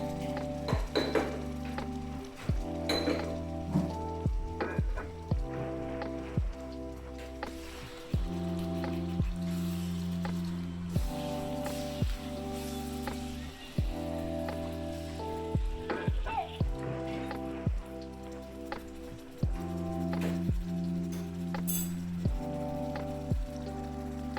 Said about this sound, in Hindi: थोड़ा सा चिकन को पहले मैं फ्राई कर लूँगी ताकि चिकन का जो है कच्चापन या उसकी स्मेल ना रहे